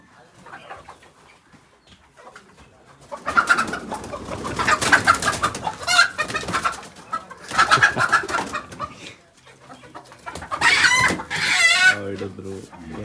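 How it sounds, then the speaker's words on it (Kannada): Country chickens at a farm clucking and squawking in agitated bursts as they are caught, loud and close, with short quieter pauses between flurries and some voices mixed in. "ಗೈಸ್ ಕೋಳಿ ಹಿಡಿತಾ ಇದ್ದೀವಿ ಇವಾಗ."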